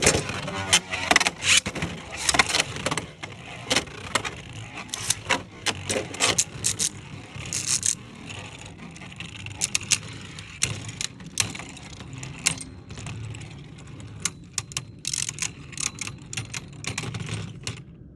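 Spinning Beyblade tops launched into a plastic stadium, including Barricade Lucifer and Zoiflare Excalius, clatter and scrape in dense bursts of sharp, close clicks and rattles throughout, with no talking.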